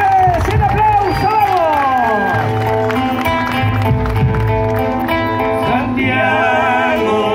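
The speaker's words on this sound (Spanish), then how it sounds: "Un aplauso en alto, fuerte, grito, todo." A crowd at a live folk event claps and cheers loudly and continuously, with shouting voices and music filling the space throughout.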